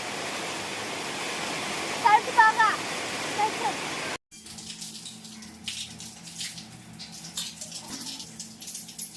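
Steady hiss of pouring rain, with brief chirps from chicks early on, then a cut to rougher rain noise with faint talk underneath.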